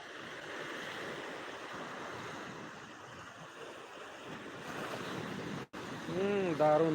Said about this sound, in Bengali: দীঘার সমুদ্র সৈকত থেকে সরাসরি লাইভ